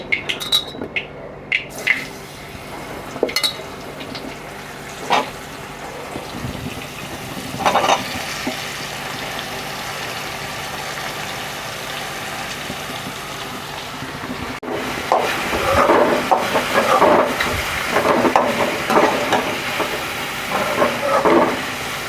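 Mushrooms with turmeric sautéing in a pan make a hissing sizzle that swells and fades, broken by occasional clattering knocks and stirring bursts.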